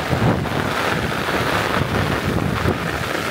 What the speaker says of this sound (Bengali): বৃষ্টির সাথে দমকা হাওয়া